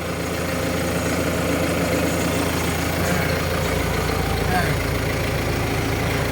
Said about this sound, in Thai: นี่ก็นั่งอยู่ในรถไถนี่นะครับผม